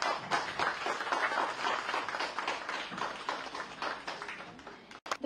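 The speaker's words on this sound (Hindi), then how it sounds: "तालियां बजती रहनी चाहिए प्लीज।" Audience clapping at a Hindi TV news channel's event, a dense, sustained round of applause from a crowd, fairly even in loudness with a sharp knock near the end.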